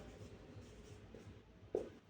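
Marker or chalk writing on a board in a Bengali grammar lesson, a faint soft scratching stroke pattern with one brief louder tap near the end, no talk over it.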